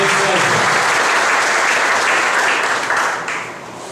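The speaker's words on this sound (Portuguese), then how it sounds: "O Sérgio, com muito carinho, uma salva de palmas." A church gathering applauds to welcome Deacon Sérgio, loud sustained clapping from a large crowd filling the room, with a brief voice at the start and the applause thinning near the end.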